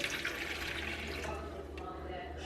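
Water poured into a bowl for pretzel dough, a steady close splashing and trickling stream lasting throughout, fairly quiet with a low background hum.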